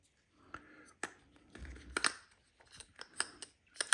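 A new tape spool is pressed into a Scotch tape dispenser with sharp plastic clicks and snaps. Scattered taps and a brief rattle sound close and quiet, with no talk.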